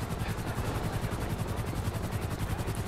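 Police helicopter in the video game GTA V, heard alone and close with a loud, continuous rhythmic rotor chop throughout.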